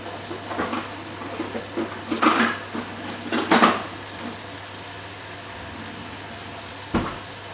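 A utensil clinks and scrapes against a pot while pasta is stirred to break up the loops, a few knocks in a short cluster, then a quieter stretch and one last clatter.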